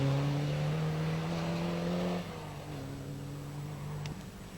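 Rally car number 32, driven by Bertie Law on a 1980 Ulster Rally stage, roars loudly with a steady high engine note that drops in pitch as it passes, then fades to a quieter drone with a late sharp burst.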